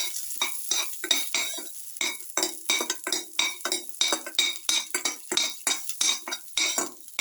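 Cashews being stirred in a hot pan, a utensil scraping and clinking against the metal in quick, repeated strokes with a light sizzle underneath, close and steady with no talking.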